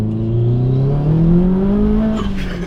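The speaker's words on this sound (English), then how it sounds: "That was wheel spinning" A Subaru Impreza Blobeye engine climbs steadily in pitch as its wheels spin, a loud, close rising drone with a short scrabble near the end.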